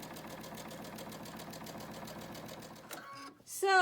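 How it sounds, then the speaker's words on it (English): Sewing machine stitching fabric strips for a Christmas table runner, running in a steady fast mechanical patter for about three seconds before stopping, followed by a brief clatter. "Take a few stitches to tie that baby down."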